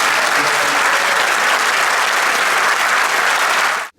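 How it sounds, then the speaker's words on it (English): An audience fills the space with loud, steady applause, dense clapping sustained for several seconds before it cuts off abruptly. "Let's give him a round of applause"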